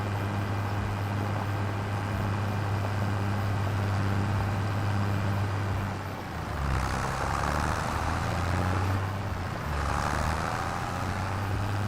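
A Ford tractor in Farming Simulator 25 drones with a loud, steady, low engine roar that surges twice as the revs climb, and no voices are heard.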